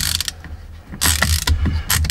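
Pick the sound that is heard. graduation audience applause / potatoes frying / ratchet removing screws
ratchet removing screws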